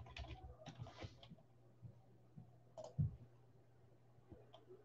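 Someone types on a computer keyboard at a quiet desk, producing faint, scattered clicks and short bursts of keystrokes with a low electrical hum beneath.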